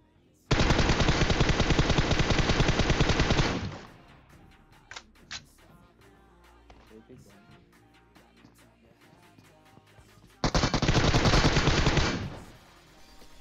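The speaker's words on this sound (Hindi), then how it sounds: "गन चला रहे हैं भाई, UMP 45 चला रहे हैं" UMP 45 automatic fire in PUBG Mobile rattles in two loud sustained bursts, a three-second stretch and then a shorter one, separated by quieter game ambience with a couple of faint distant shots.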